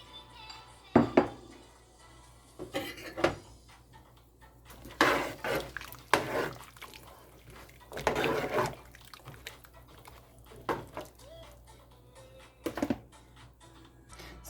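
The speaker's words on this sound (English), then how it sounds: "So now I'm gonna put in my pumpkin and my carrots." Chopped pumpkin and carrots go into a pot of Jamaican chicken foot and chicken back soup, giving scattered clanks, knocks and soft thuds against the pot amid quiet kitchen background.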